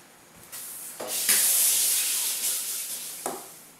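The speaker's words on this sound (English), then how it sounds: "Now I'm going to wash my hands." A kitchen faucet runs while hands are washed at the sink, a close, steady hissing spray with a few splashy bursts as the hands move under the stream.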